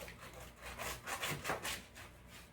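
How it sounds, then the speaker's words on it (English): A knife cutting through a big ten-pound head of cabbage, rhythmic crunching and rasping strokes like sawing, fairly quiet and close, with no talk. "The knife probably could need some sharpening. Is there any certain way you're going to chop that up?"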